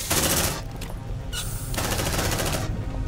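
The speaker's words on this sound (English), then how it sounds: "Deploying sentry gun!" Sentry gun in Aliens: Dark Descent fires loud, continuous automatic bursts up close, with two short pauses between sustained volleys.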